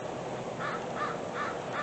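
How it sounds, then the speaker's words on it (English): A crow caws four times in an even rhythm, moderately distant and fairly faint, over a steady outdoor background hiss with no talking. "That was a crow that flew by."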